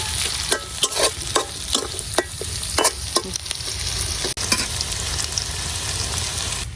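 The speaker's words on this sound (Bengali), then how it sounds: "এখন পেঁয়াজটা একটু হালকা করে ভাজা নিলাম।" Onions fry lightly in a pan with a continuous sizzle, broken by repeated sharp scrapes and clicks of a spatula stirring them, close and fairly loud.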